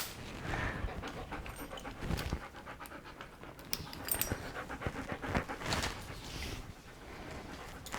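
A dog pants in a garage, quick rhythmic breaths coming in bursts at close range with short pauses between, moderately quiet and without talk.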